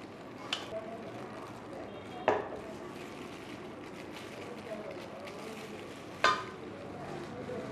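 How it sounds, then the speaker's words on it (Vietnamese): Soft stirring and rustling as green rice flakes are mixed by hand with coconut and other ingredients, a faint continuous scraping texture with a couple of sharper knocks against the bowl, and no voices. "Chúng ta bắt đầu cho nguyên liệu vào trộn."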